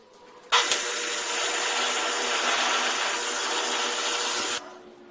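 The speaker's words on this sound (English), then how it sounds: "So I'm gonna drill both of these sides all the way down" A power drill bores into a steel trailer frame for U-bolt holes, one continuous loud, close whine lasting about four seconds that starts abruptly and cuts off sharply, with no talking.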